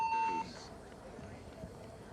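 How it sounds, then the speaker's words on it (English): A short electronic beep from the field buzzer at an NXL pro paintball tournament sounds once at the start, followed by a muffled, busy background. "hit the buzzer."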